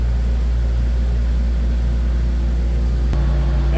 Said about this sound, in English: My AC is a full blast because it's really hot right now.